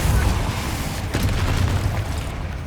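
Bombarda and Confringo spell explosions in the Hogwarts Legacy video game boom with heavy low rumbling blasts and a sharp burst near the middle, loud and dense with no clear gaps.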